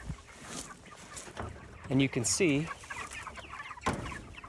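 Chickens cluck and squawk in a chicken tractor on a farm as its back is unhooked, with someone talking over a steady clucking bed and a couple of louder calls.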